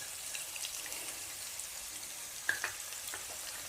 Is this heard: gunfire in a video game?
no